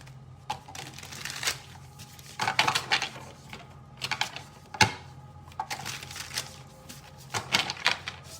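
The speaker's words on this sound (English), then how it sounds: "let me shuffle these a little bit real quick" A deck of cards shuffled by hand at close range, irregular bursts of riffling and soft clattering with brief pauses between them, no talk.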